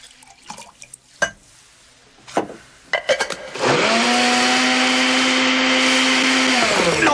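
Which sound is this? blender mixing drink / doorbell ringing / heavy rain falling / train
blender mixing drink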